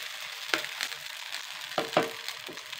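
Batter made from soaked rice is spread across a hot pan and sizzles quietly, with a faint steady fry broken by a few sharp scraping taps from the spreading utensil, heard close up with no speech.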